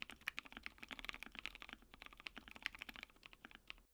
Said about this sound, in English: we can get to a pretty thocky sounding keyboard